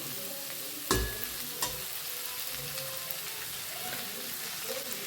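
Cluster beans fry and get mixed in a pan, giving a low continuous sizzle broken by a couple of sharp utensil knocks and scraping stirs, with a voice faintly present.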